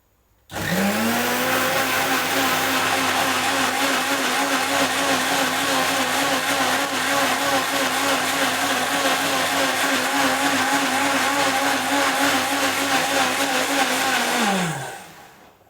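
A mixer grinder grinds coconut with curd, a loud steady motor whir that starts abruptly, holds its high-pitched drone for about fourteen seconds, then winds down and stops.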